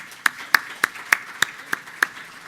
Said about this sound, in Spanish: Un aplauso para ellos por acompañarnos.